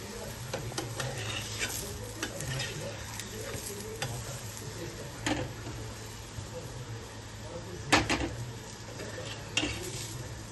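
Farali aloo paratha roasting in ghee on a pan gives a continuous, even sizzle with occasional clinks and scrapes of a utensil, a couple of them sharper and louder.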